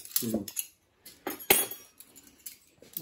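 Cutlery and dishes clink and clatter in brief separate bursts as soup is ladled, sharp close metallic chinks with short quiet gaps.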